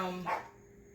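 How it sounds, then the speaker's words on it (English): A dog outside wanting to come in gives a single short, faint bark in a quiet kitchen, heard alone. "that's my dog barking. She want to come in,"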